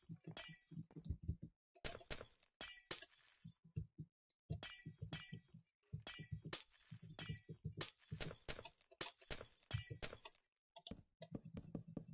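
Glass blocks break in Minecraft, a rapid series of crisp shattering crashes and clinks arriving in irregular bursts with short silent gaps between them, close and clear with no talk.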